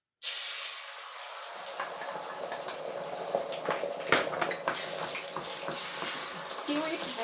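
Eggs drop into warm oil in a wok and set off a sudden loud hiss, then a steady close sizzle with small pops and crackles.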